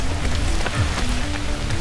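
Rain falls steadily during the UTMB mountain ultramarathon, a dense, even hiss of drops on surfaces close around, with a faint mechanical hum underneath and no voices.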